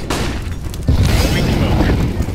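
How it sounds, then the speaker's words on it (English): Flashbang grenade in Counter-Strike: Global Offensive going off as a sudden loud boom with a rumbling tail, after a short stretch of game noise and voices. "Flashbang."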